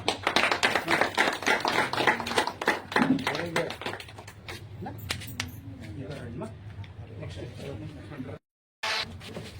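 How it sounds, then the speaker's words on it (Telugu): Applause at a felicitation event for municipal sanitation workers in Kadapa: dense, brisk hand clapping from a gathered crowd for several seconds, thinning out as voices continue, with a brief dropout near the end. "గట్టి చప్పట్లతో"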